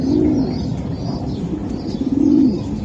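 Racing pigeons coo nearby in soft, rolling low calls, two clear coos standing out over a steady background murmur.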